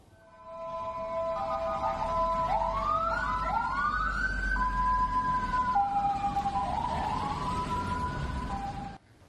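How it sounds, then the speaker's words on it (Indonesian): Loud wailing ambulance siren with rising and falling tones over low traffic rumble, sustained before cutting off abruptly at the end. "frekuensi lintasan ambulans cukup tinggi dan sering dengan membunyikan sirine"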